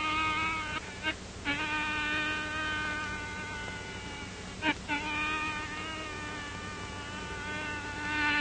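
Insects drone in a continuous, close, high-pitched buzz that holds steady throughout, broken by a couple of brief louder bumps.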